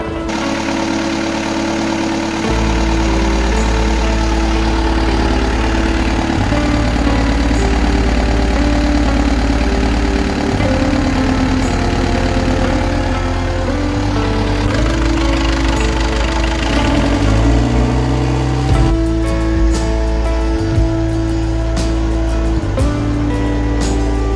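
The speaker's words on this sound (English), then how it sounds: "let's start this engine up" A Perkins 4.108 marine diesel engine on a sailboat idles loudly and steadily up close, with a deep rumbling throb and knocking that shifts in pitch a few times.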